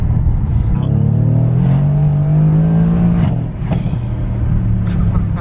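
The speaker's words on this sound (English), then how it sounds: "the tiniest little blip on the throttle and it's so loud." A Mercedes-Benz C63 S AMG coupe's V8 engine drones loud and close, swelling with a throttle blip and rising pitch before easing off, with a voice talking over the engine.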